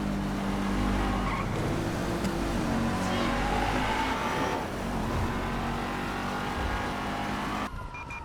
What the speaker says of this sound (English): how the car goes to a higher frequency in the engine as we go faster